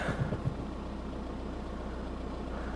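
An abandoned VW Golf, its battery recently flat, starts with a short burst of cranking and then idles steadily and evenly, close by.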